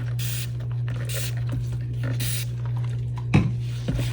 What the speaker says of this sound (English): I'm going to spray my mold really good.